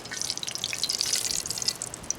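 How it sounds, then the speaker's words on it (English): Hot butter and grease crackling in a pan on an outdoor camp stove as rain sprinkles into it, with quick, dense, bright pops and sputters close by, nobody talking. "it's starting to sprinkle again because the rain's hitting the hot grease and splattering"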